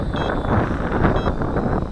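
Steady buffeting wind noise across an outdoor microphone during a Cheerson CX-20 drone flight on a hillside, a constant broadband rush with a faint high whine in the background.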